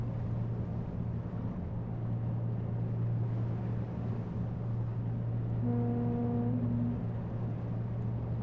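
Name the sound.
ship foghorn in Seafarer: The Ship Sim video game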